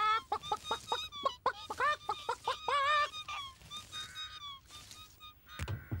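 Cartoon hen and chicks cluck in quick bursts of rhythmic, close, fairly loud calls, then sparser peeps, with no talking.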